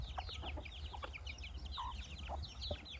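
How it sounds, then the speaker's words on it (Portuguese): Free-range chickens in Mato Grosso, Brazil, feeding on the ground, giving soft, scattered clucks and chirps over a low, steady rural background hum, faint and somewhat distant. "umas galinhas caipira aqui do Mato Grosso"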